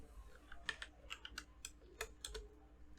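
A stiff, tight computer keyboard clacks under irregular keystrokes, a dozen or so crisp close clicks spaced unevenly, quiet overall.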